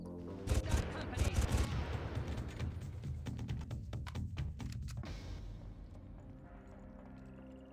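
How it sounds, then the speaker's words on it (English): Rapid bursts of gunfire in the video game Far Cry, dense volleys of sharp shots for about five seconds that then thin out and fade, fairly faint overall with no talking. "I don't like hearing the gunfire."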